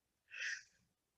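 A single quiet sneeze, a short breathy burst that fades quickly, with no talking around it.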